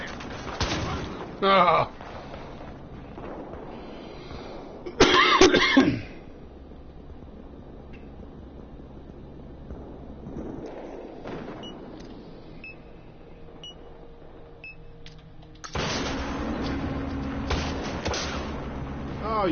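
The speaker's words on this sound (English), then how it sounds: "I'm pinned under heavy fire!" Heavy gunfire in Battlefield Hardline, sharp bursts of shots with a sustained loud barrage near the end, mixed with a short shout and game sounds.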